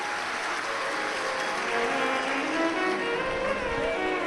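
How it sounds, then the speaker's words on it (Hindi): Audience applause at a Shiv Mahapuran religious discourse gathering: steady, dense clapping from a large crowd, loud and continuous throughout with no pauses. "एक बार जोरदार ताली बजाकर इनके लिए साधु का।"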